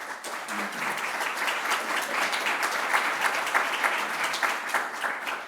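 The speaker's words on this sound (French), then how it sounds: "Je vous demande de l'applaudir." An audience at a business talk on AI applauds in a continuous dense wash of many hands clapping. It holds at an even level for the whole stretch, with no speech over it.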